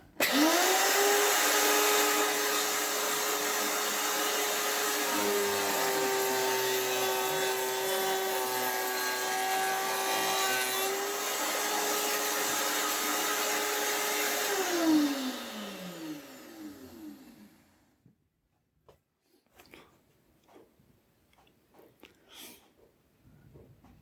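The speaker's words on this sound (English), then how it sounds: "let's cut the same profile on another piece of wood" A power tool cutting a profile into a piece of wood, a loud sustained whining motor with a steady tone that holds for about fifteen seconds, then spins down and stops, leaving faint handling knocks.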